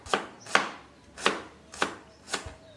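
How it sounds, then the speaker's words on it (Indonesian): A knife thinly slices shallots and garlic on a cutting board, giving five crisp, evenly spaced chops about half a second apart, close and clear with no talking. "Ini mau kita iris tipis-tipis juga."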